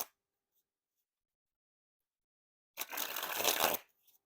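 White Gold Knights playing cards being shuffled, a single brisk riffle of about one second after a long quiet pause, close and crisp, with no talk.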